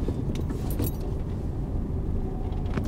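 A car braking and shifting into second gear during a driving lesson, heard from inside the cabin as a steady low engine rumble with a few light clicks and rattles. No one talks.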